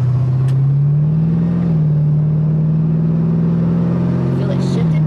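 A 1973 Chevy Nova with an LS engine swap pulls away under light throttle, its steady low engine drone rising slightly in pitch, close and continuous throughout.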